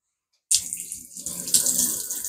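Hotel shower in a Britannia Hotel in the UK turned on, water bursting out after a moment of silence and running steadily with a hissing spray, close and fairly loud.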